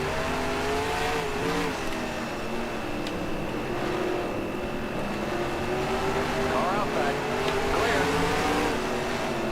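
A race car engine circles a lap in NASCAR Racing 2003 during a 1968-season short-track session at Greenville or Columbia, holding a loud, steady roar whose pitch swells and dips through the corners while someone talks over it.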